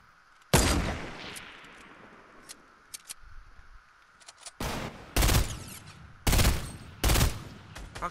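Gunfire in a shooter video game: one loud opening blast, a few faint scattered pops, then several rapid bursts of shots close together near the end.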